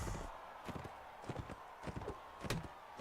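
Horse hooves clip-clop in a Mount & Blade: Warband battle, a quiet, uneven run of hoofbeats at a moderate distance with no talk over them.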